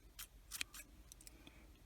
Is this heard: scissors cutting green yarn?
yes